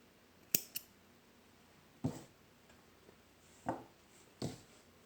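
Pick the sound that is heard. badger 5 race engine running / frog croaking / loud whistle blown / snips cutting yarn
snips cutting yarn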